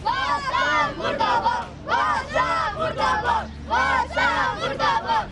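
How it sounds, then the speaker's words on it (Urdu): Protesters demanding clean drinking water chant slogans against the WASA administration, a crowd shouting in loud rhythmic bursts that repeat in waves with short pauses between them. "مظاہرین نے واسا انتظامیہ مرد آباد کے نعرے بھی لگائے۔"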